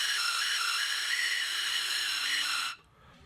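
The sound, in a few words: air blown through lampworked glass pipe whistle, faint whistle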